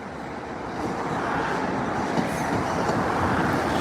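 A passing train in Lincoln, probably hauled by locomotive 66079, gives a steady, broad rumble that builds gradually and holds at a moderate level, with no talk.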